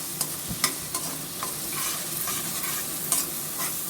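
Onion and garlic frying and being stirred in a pan while cooking a potato and cabbage sabzi, with a steady sizzle and repeated scraping strokes of a spoon against the pan, close and continuous.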